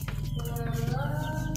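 Goat held at a livestock seller's pen in Indonesia, with a steady, close bleating cry whose harmonic tone runs continuously through the moment, mixed with a faint bird-like coo.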